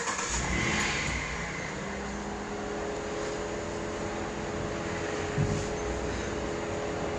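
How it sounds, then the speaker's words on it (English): A 2006 Dodge Ram 1500 4x4 with the 5.7 engine runs at a steady idle after starting, a low continuous rumble heard from nearby without any voices. "now I'm going to start the engine and turn the wheel left to right"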